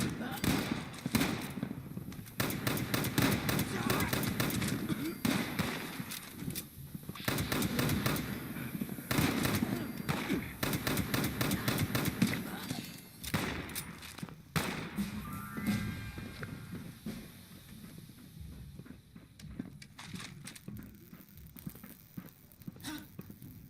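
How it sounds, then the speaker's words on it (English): 10mm pistol fire in the video game Fallout 76, a long run of rapid, evenly spaced shots with brief pauses between bursts, quieter and sparser toward the end. "switch to a gun that didn't take 40 seconds between each shot, the 10mm pistol"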